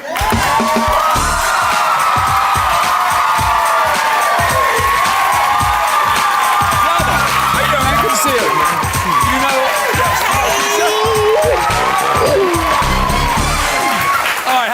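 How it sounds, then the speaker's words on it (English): A large studio audience at a TV dating show cheers, screams and whoops loudly and continuously, a dense wall of excited voices with some clapping underneath. "So let me hear you scream for Sheldon."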